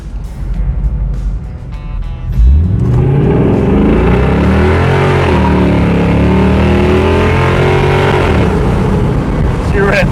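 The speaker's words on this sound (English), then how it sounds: "That's the one thing I'll say about this truck, is it rips." A pickup truck engine idles loudly up close, then roars into a hard rev and accelerates with rising pitch and gear changes, sustained for several seconds; a voice speaks briefly before the revving.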